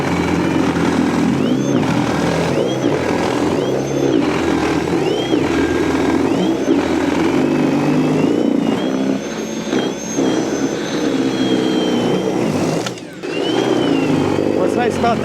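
A battery-powered snow blower runs loudly and continuously while clearing snow from a patio, its motor whine steady with slight rises and dips and a brief drop near the end; a person talks over it.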